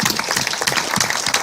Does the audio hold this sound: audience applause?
yes